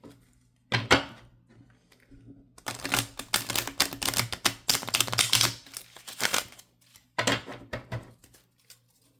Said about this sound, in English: let me give them one more shuffle this way